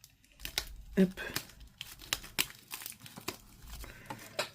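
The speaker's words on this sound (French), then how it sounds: "pour l'ouvrir, je vais prendre tout de suite un petit couteau. Tac, pour ouvrir tout doucement ici" Sealed Pokémon deck packaging being opened with a small knife: close, quiet scraping, crinkling and tearing of plastic in short bursts, with a brief spoken interjection.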